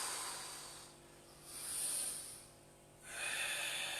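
Slow, deep breathing during a Wing Tsun exercise, close and hissy, fading out and then rising again across a few seconds with no talking.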